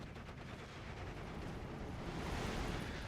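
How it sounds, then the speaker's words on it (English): Dense rumbling battle noise from the Steel Division 2 strategy game during mortar fire, a continuous roar of distant blasts and gunfire that swells slightly toward the end, with no voices. "As the Mortars continue to try to find this flak, but it's long gone from that position."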